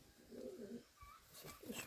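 Pigeons coo softly inside a dovecote, a few low rounded calls in short bursts, fairly faint and close, with some light rustling near the end.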